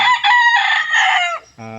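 A hybrid fighting cock kept for cockfighting on a farm in Tubigon, Bohol, crowing loudly and close by in one long drawn-out call that ends with a short clucking tail.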